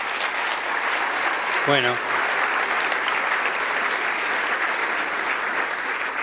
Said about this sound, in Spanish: Hay que aplaudirlo.